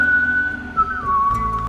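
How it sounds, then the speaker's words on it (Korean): A single steady whistled tone held for over a second, sliding slightly lower partway through, alone and fairly loud, from the anime Record of Ragnarok. "다시 한번 휘파람을 부는 포세이돈."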